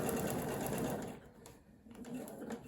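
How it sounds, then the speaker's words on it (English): A sewing machine stitching fabric while piecing a quilt block, a steady close whirring hum that runs continuously and dips slightly in the middle before picking back up. "Start to sew, back stitch a couple. Sew on the line to the end"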